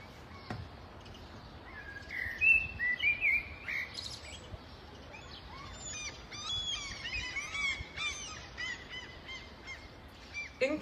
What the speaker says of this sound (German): Inklusive Vogelgezwitscher.